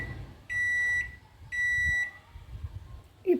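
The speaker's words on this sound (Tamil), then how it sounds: "இப்போ நான் இதை மைக்ரோவேவ்லேயே வச்சுடுறேன்." Microwave oven heating pasta gives two long, steady electronic beeps, each about half a second, separated by a short pause and followed by faint kitchen clatter.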